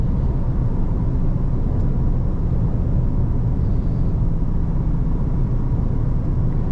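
Steady, continuous roar of tyres rolling on a road from a moving vehicle, low and rumbling throughout, with no voices.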